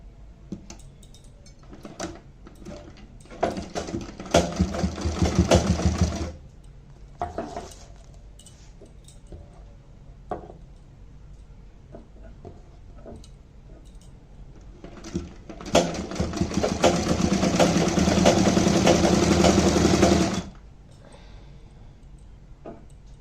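A sewing machine stitches the seams of a gharara in two runs of close, rapid mechanical whirring, a short burst first and then a longer steady one, with soft handling clicks between.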